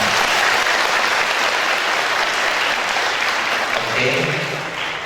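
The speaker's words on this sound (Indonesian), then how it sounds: "Tepuk tangan buat semuanya" Audience at a Vesakha celebration at a Theravada Buddhist centre in Indonesia breaks into sustained applause, a loud even wash of clapping that eases slightly as a voice begins speaking near the end.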